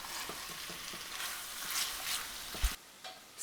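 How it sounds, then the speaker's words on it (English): Chicken with tomato paste stir-frying in a pan over the highest flame, a steady close sizzle with repeated stirring scrapes and a sharp clatter near the end. "Stir frying this on the highest flame locks in the juices and gets the entire dish coming together."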